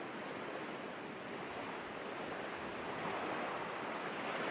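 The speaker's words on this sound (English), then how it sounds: "watch the waves wash over you, touch your toes, up to your ankles" Ocean waves wash steadily onto the shore in a continuous, even roar of broadband surf, with no distinct breaks or voices, sounding fairly distant and soft.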